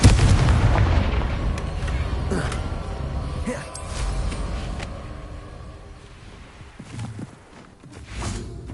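Confringo explosion spell cast in Hogwarts Legacy, a loud burst with booming blasts and rumbling that fades out over several seconds, followed by scattered smaller impacts, with a voice speaking.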